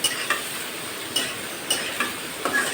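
Fish fries in a pan on a rural kitchen stove, a continuous close sizzle broken by regular spatula knocks and scrapes roughly every half second, with no talking.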